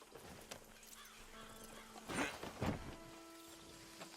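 Horse hooves in the video game Red Dead Redemption 2 clip-clop at a slow walk over a soft, steady background hum, with a couple of louder thuds near the middle.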